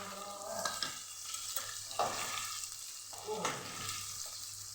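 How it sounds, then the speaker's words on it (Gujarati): Spices and tomato sizzle in a hot pan for sat dhan khichdo while a spoon scrapes and stirs in a few distinct strokes, close and moderately loud with no talking. "એને પણ સરસ આપણે સાતરી લઈશું"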